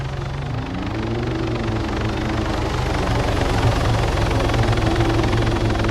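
Video game helicopter arriving: a loud, steady rotor and engine drone with a low throbbing beat and shifting whine, continuous throughout and growing slightly louder.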